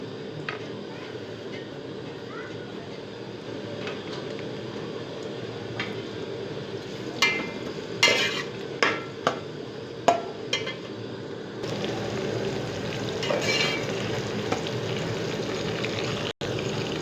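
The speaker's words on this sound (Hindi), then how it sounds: "प्याज भून लें पहले।" Onions fry in a pot as the base for a Punjabi chicken yakhni pulao, giving a steady close sizzle, with a series of sharp spoon clatters and scrapes partway through and no talking.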